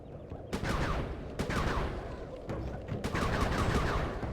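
Rapid gunfire bursts from the Sly 3 video game, several sharp volleys over a steady background of game action, fairly loud and continuous.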